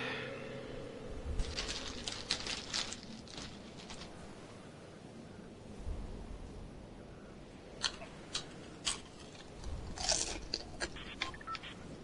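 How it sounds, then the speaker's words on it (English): Close, quiet munching and crunching of food comes in irregular bursts of bites and chews over a soft background hiss, with no voices. "I see you munching."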